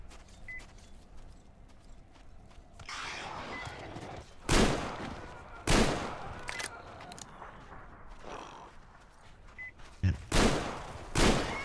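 Bursts of gunfire crack out in Metro Exodus, several loud volleys spaced a second or so apart over a quieter ambient backdrop, with a few sharp single shots near the end.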